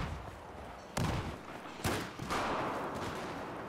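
Explosions and gunfire in Battlefield 4 on PS4, a steady roar of distant battle with two sharp louder blasts standing out, no talk.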